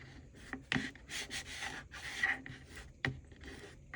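Paper is rubbed firmly along a glued fold to burnish a junk journal hinge, giving soft scraping strokes with a couple of sharp taps in between, close and fairly quiet.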